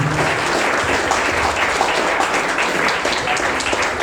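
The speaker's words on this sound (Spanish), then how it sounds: "Te damos un fuerte aplauso por Jesucristo" A church congregation gives a strong, continuous round of applause during a worship service, loud and even throughout with no voices standing out.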